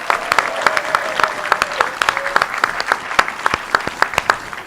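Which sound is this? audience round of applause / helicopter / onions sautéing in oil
audience round of applause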